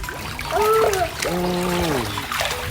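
Water splashes in an inflatable pool set up indoors while a child plays, with continuous splashing and trickling under loud, high-pitched children's voices.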